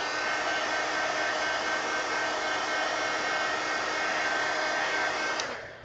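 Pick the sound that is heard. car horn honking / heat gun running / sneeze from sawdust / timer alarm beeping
heat gun running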